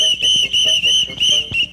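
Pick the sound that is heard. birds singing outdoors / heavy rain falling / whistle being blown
whistle being blown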